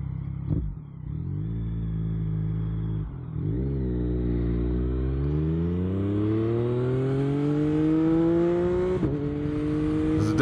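A motorcycle with a quick shifter and freshly flashed ECU pulls hard close by, its engine note climbing through several quick, clean upshifts with brief dips between gears, loud and continuous.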